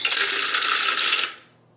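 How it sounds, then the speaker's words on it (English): Loud, dense rattling clatter of chocolate chips whirling in a food processor, continuous for over a second, then cutting off and fading out. "we'll see what happens if we put these in the food processor"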